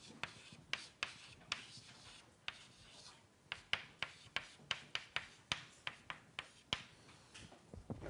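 A lecturer in a university lecture hall writes on a board: a steady run of sharp taps and short scratchy strokes, close and clear, with brief pauses between bursts.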